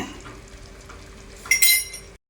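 A cooked-ground cumin and fenugreek spice powder gets stirred into a simmering tamarind curry for dried fish. A spoon scrapes the pot softly, and a brief, brighter clink of metal comes near the end.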